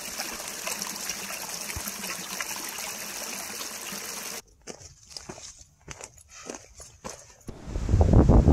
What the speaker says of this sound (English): There is reliable water flowing down the upper Big Tujunga Canyon.